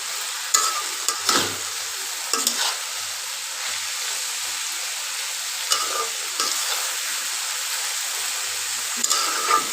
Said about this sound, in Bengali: দিকে ভাজিটা একটু নাড়া দিয়ে নিই